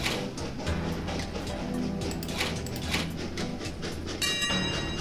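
A long train rumbles along in the video game Train Valley, a continuous clattering rail sound with rhythmic wagon noise, fairly faint, ending with a brighter mechanical chime near the close.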